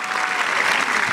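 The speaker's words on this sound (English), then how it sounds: "How about a big round of applause?" Graduation audience applauding at a high school ceremony, a dense, steady wash of clapping from a large crowd that holds at full strength throughout.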